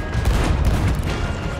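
Dense, booming volleys of heavy cannon fire from ships in a video game pound continuously, loud and close, like a barrage of cannon shots.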